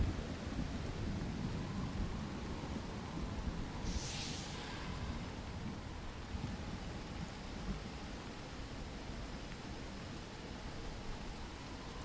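A thunderstorm in the survival video game Icarus, with steady heavy rain hissing throughout and a low rumbling thunder bed, no voices.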